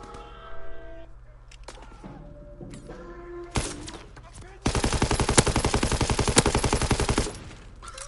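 Call of Duty WW2 gunfire: a few scattered single shots and game sounds, then a long, loud, rapid stream of automatic fire lasting about three seconds before cutting off.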